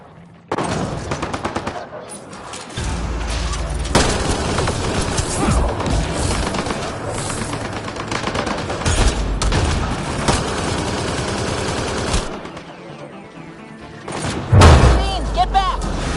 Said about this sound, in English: Turn those turrets on Merryweather's men.